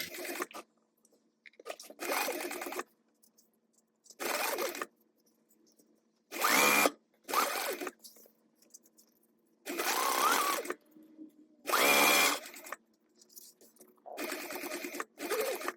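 A sewing machine bastes fabric pieces together with an eighth-inch seam, running in repeated short bursts of steady rapid stitching separated by quiet pauses.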